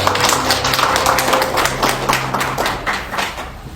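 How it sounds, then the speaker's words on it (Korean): An audience at a forum on voting rights for people with disabilities gives dense, sustained applause as a city councillor is welcomed. The clapping fades slightly toward the end. "큰 박수 부탁드리겠습니다."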